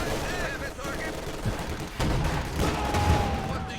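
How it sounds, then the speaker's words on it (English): Machine-gun fire from LMG grenadiers strafing ZiS anti-tank guns in a real-time strategy game, with rapid bursts of gunfire layered over battle noise while a voice talks over it. "The Zisses are being blasted by all these LMG grenadiers though"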